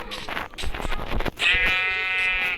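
A sheep bleats in a video game, one drawn-out nasal bleat following a stretch of scattered clicking and game noise.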